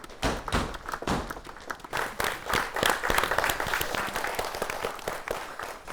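Loud, dense applause fills the hall at an awards ceremony for women farmers, a large crowd clapping continuously with heavy, thumping claps close by.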